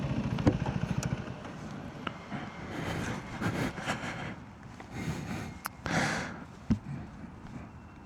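A KTM 390 Adventure R motorcycle engine heard while riding, a low, uneven drone with revs rising and falling and sharp bursts of wind and mechanical noise over it, moderately loud and without talk.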